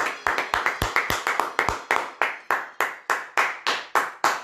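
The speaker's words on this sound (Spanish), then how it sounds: "Fuerte el aplauso." Audience applause at a circus show, a steady run of sharp, close hand claps in an even rhythm, loud and alone without talk.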